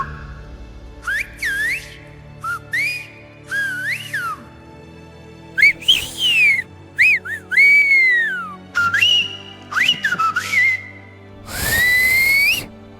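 Silbo, the whistled language of Tenerife, in a run of loud, close whistled phrases. Each phrase glides and bends sharply in pitch, with short silences between bursts and a longer held whistle near the end.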